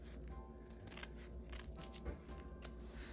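Scissors cutting paper for a junk journal at close range, a quiet run of soft snips and crisp paper slices repeating irregularly.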